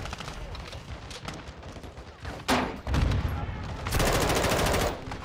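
Dense automatic gunfire from the Modern Warfare 2 campaign mission Kill or Capture, with loud sustained bursts and heavy blasts close up and nearly continuous, rising in intensity toward the end.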